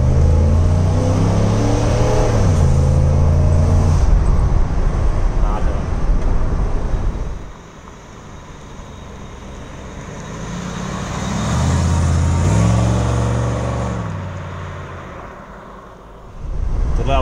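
A 1989 Cadillac Allanté convertible drives with its roof down, the engine revving and pulling up through gears, then easing off and surging again, loud with wind and road noise, as someone talks over it.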